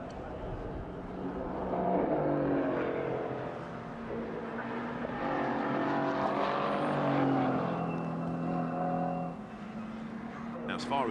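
A GT race car, GT World Challenge Asia machinery in qualifying at Sugo, passes on the circuit with a sustained engine tone that swells and fades, partly under a commentator's voice.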